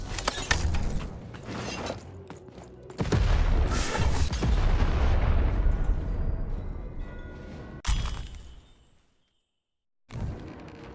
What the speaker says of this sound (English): Time to fire the cannon